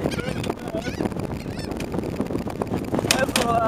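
A large flock of seagulls calls overhead in a loud, overlapping chorus of honking squawks, with people shouting now and then amid the birds.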